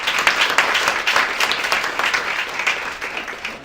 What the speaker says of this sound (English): can I just get another round of applause for my pitcher?